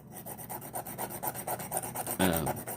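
A hand file rasps across metal being narrowed for a disc detainer lock tool head, in quick regular back-and-forth strokes, close and rhythmic, with one heavier stroke near the end.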